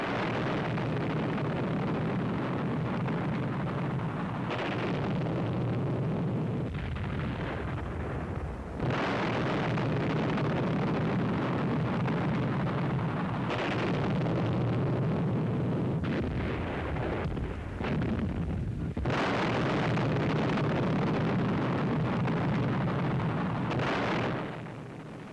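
Bombs bursting over Pforzheim, a rail centre and manufacturing city on the Upper Rhine, during an RAF raid: near-constant rumbling blasts and booms with repeated sharp bursts, loud and dense throughout, no voices.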